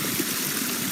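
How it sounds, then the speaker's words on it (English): A large flow of water gushes steadily out into furrows in a surface furrow irrigation system, a continuous broadband rushing wash, loud and close throughout. "huge quantity of water is coming out"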